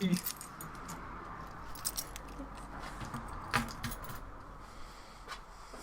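Keys jangle and clink in a few bursts over a low, steady background hum, quiet and close.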